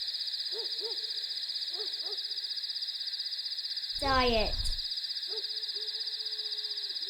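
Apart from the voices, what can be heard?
owl hooting twit-twoo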